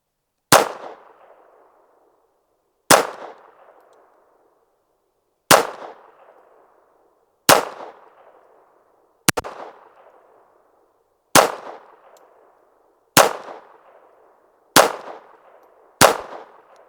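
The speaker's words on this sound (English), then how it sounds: "Got some CCI velocitors." Nine evenly spaced single shots from a Retay Arms RXP 22 pistol firing CCI Velocitor .22 rounds, each a sharp crack with a short decaying tail, about two seconds apart, with no speech.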